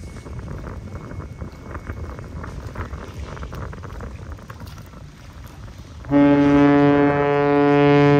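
Horn salute from the Algoma Innovator freighter: a loud, steady, harmonic blast that starts about two-thirds of the way in and holds to the end, following a stretch of wind and water noise.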